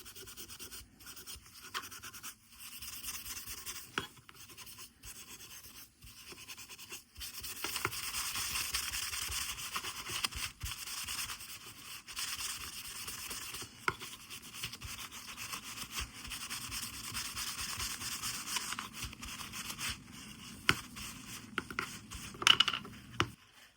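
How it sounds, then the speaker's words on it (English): Steel wool and metal polish scrubbed over the blade and metal parts of a 50-year-old Morakniv knife, producing soft, rapid, close scratching strokes in uneven bursts with brief pauses and a few small clicks. "steel wool to do some final polishing and clean up of the blade and the metal parts."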